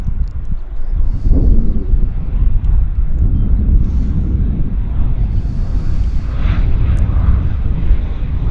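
A CRJ regional jet at Vancouver Airport gives off a low, rumbling engine roar that runs through the whole stretch, mixed with gusty wind buffeting the microphone.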